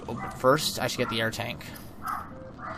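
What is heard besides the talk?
young pet dog barking in the house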